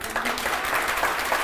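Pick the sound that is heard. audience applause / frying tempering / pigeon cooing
audience applause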